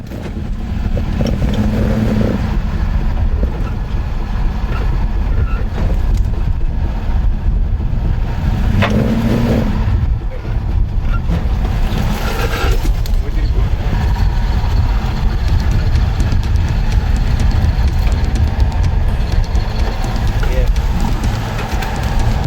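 A 4x4 off-road vehicle strains against a near-vertical rock wall at Wolwekloof, its bumper catching on the rock; a loud, steady engine drone runs throughout, with voices talking over it.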